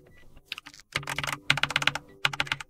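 Someone types on a Keychron K8 QMK Version 2 mechanical keyboard: close, crisp bursts of rapid keystrokes in uneven runs with short pauses between, and no talking.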